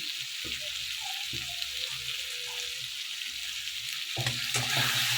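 Ground turmeric, chilli, cumin and coriander powders sizzle steadily in a hot pan while being stirred, with repeated scraping bursts and a louder stirring flurry near the end, no voices.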